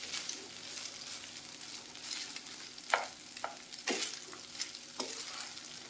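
Cooked rice for okra rice is stirred and mixed in a hot pan, with a soft sizzle under a run of scraping spoon strokes that come in uneven clusters, some sharp and close.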